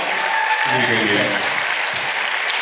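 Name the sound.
audience applause for the doctor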